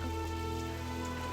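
Steady rain falls at night as a faint, continuous hiss with soft pattering, and quiet tonal sounds linger in the background.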